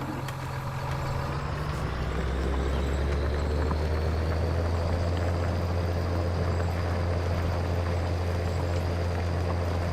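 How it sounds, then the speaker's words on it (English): A John Deere 7810 tractor engine in Farming Simulator 19 drones steadily and loudly, its pitch rising slightly as revs climb and then holding at a sustained roar. "whether it does the annoying engine sound or whether it keeps the revs up"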